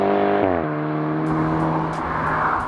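A lowered, stiff VW Scirocco R tuned to Stage 2+ holds a steady droning engine note after a quick drop in revs, loud and close with a rumbling exhaust tone and no talking.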